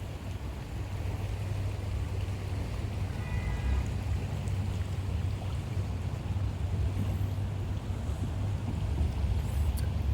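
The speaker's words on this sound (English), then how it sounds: "The sound of the water, it's just so calming." Water of the Elkhart River flows in a steady, broad rushing wash heard outdoors at moderate level, unbroken for about ten seconds with faint distant background sounds and no speech.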